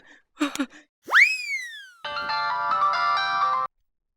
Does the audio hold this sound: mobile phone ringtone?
yes